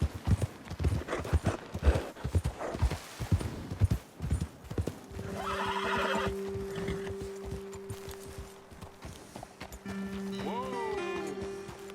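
Horse hooves clip-clop in Red Dead Redemption 2, with quick, close hoofbeats at first that slow and soften. A steady musical tone and a brief whinny follow near the end.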